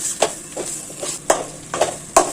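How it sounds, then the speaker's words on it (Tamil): Spoon stirring thick rice dough for neer urundai in a pan, a series of sharp scraping strokes at an uneven rhythm, close and fairly loud against faint background noise. "கிண்டி விட கிண்டி விட நல்லா கட்டி ஆயிடுச்சு"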